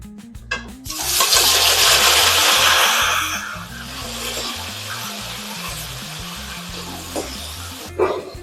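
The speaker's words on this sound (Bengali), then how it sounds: "বাটিটা ধুয়ে জল দিয়ে দিচ্ছি" Water rinsed from a bowl and poured into cumin and green chilli paste frying in a pan for prawn malai curry, a loud gushing splash and sizzle that settles into a steady simmering hiss.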